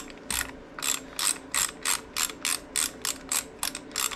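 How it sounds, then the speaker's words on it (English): A ratchet breaks a bolt free on a Harley-Davidson Sportster: about a dozen crisp, evenly spaced clicking bursts, close and clear, with no talking. "Get your ratchet to work properly. Break that bolt free."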